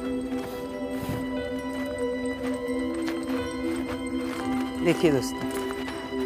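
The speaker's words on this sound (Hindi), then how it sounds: "देखिए बैल आ रहे हैं, देखिए आपको दिखाई दे रहा है, दो बैल आ रहे हैं।" Two bulls used for farm work walk along a hilly forest road in Karnataka, their hooves clopping in a loose rhythm beneath someone talking continuously nearby.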